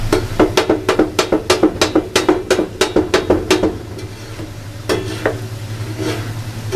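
Metal spoons clatter rhythmically against a wide tawa while stirring keema, about a dozen loud, evenly spaced clanks over a steady sizzle, then a pause and two more scrapes, with no speech.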